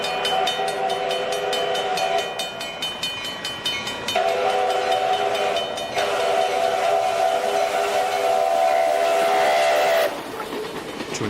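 Original Chinese five-chime steam whistle on the QJ steam locomotive RJ Corman #2008 blows several loud sustained blasts, broken by short gaps, over steady mechanical hiss and rumble.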